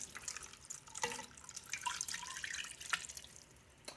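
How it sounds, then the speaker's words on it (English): Chicken broth poured over corned beef in an Instant Pot, a soft liquid splashing and dribbling with a few sharper drips, quiet and close, no voices. "take the 2 cups of chicken broth and just pour it right over it"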